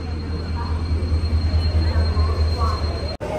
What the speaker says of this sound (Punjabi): ਇੱਥੇ ਆਊਗੀ ਆਪਣੀ ਟ੍ਰੇਨ, ਆਹ ਟ੍ਰੇਨ ਜਾਊਗੀ ਇੱਥੇ ਅਤੇ ਆਊਗੀ